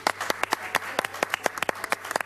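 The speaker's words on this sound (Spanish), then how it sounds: "vamos a recibirlas con un fuerte aplauso" A studio audience claps on a talk show, crisp individual hand claps ringing out close and uneven, a small group rather than a large roaring crowd.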